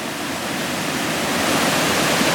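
A waterfall on Siargao Island roars as a steady, dense, close wash of falling water that grows slightly louder over the short stretch, with no voices.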